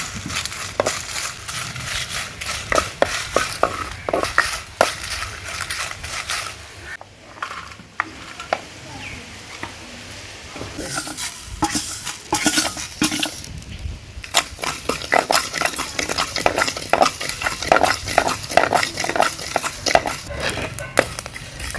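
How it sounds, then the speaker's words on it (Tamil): Dried chillies, fennel seeds and asafoetida dry-roasting and being stirred in a hot pan for lemon pickle, giving a continuous close crackling, rattling scrape with dense irregular ticks and a brief lull midway. "காய்ந்த மிளகாய், சோம்பு, பெருங்காயத்தூள் இத்தனையும் போட்டு இதெல்லாம் வறுத்து நுணுக்கணும்."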